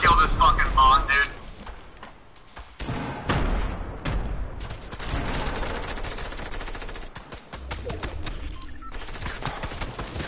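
Video game gunfire rattles in rapid bursts, loud and close at the start and then recurring over a noisy background, while several voices talk excitedly throughout.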